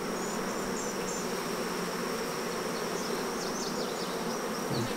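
Honey bees buzzing and flying around a homemade hive during a queen-catching split, forming a dense, steady drone of many insects that stays close and constant throughout, with no talk.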